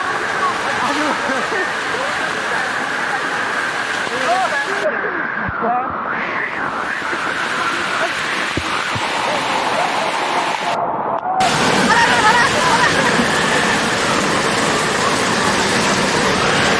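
Floodwater rushes steadily and loudly through Madhutila Eco Park in Nalitabari after an hour of heavy rain, a dense unbroken roar that briefly thins mid-way before surging fuller toward the end.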